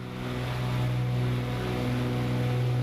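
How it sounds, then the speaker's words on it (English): Flysimware C414 Chancellor twin piston engine heard from outside in MSFS 2024, a steady droning hum with a strong low tone, even and unbroken for a few seconds, no voices. "you can also hear the FS realistic sounds. You can kind of hear the engine from the outside."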